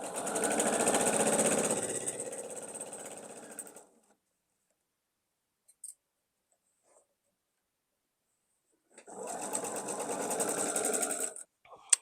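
A sewing machine stitches a quilt block in two fast, even bursts of rapid mechanical whirring, about four seconds each, separated by a long silence with a couple of tiny clicks.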